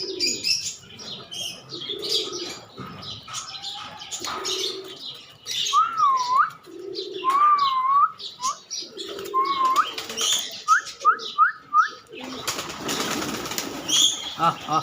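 Giribaz pigeons coo in soft low phrases at close range, with wing flaps and chirps in between, and a run of sharper calls near the end.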